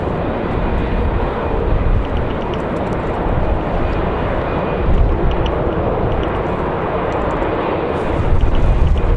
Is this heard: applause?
no